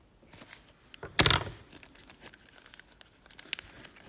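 One crisp cut through paper, a short rasping snip, with faint rustling and handling noises around it in an otherwise quiet room.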